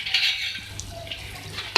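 A utensil stirs potato and egg bhujia with chopped coriander in a pan, making soft scraping and light clinking close by, with a sharper knock at the end and no talking.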